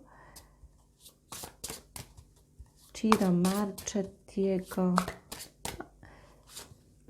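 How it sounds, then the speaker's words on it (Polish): A Ciro Marchetti tarot deck being shuffled, with rapid riffling bursts of cards close by, repeated several times, while someone speaks over and between the shuffles. "On się skupiłam na tasowaniu."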